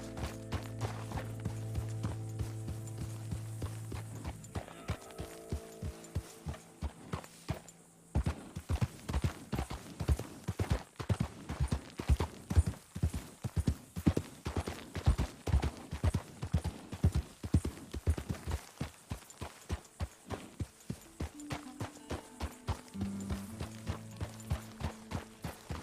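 Horse hooves clip-clop steadily on the ground in Red Dead Redemption 2, a close, rhythmic trot that quickens in the middle and slows toward the end, with musical tones and a faint whinny around it.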